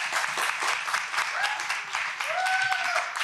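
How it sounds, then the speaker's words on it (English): Audience applause at a literary festival session, a full crowd clapping steadily, with a few voices and whoops rising over the claps. "round of applause"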